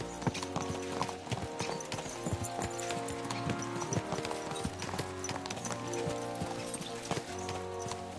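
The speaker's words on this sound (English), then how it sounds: "Let's really spur these horses on, eh?" Horses with hooves clip-clopping in a fast, even rhythm across a medieval landscape in Kingdom Come: Deliverance II, close and continuous over a sustained musical backdrop.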